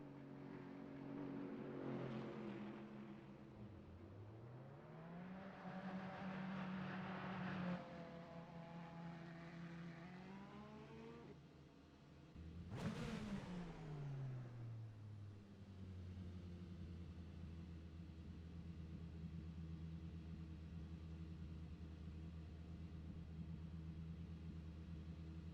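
Ferrari race car engine in a racing video game, loud and continuous, with rising and falling pitch as it accelerates and shifts through gears, a sharp surge near the middle, then a steady high drone; no talking.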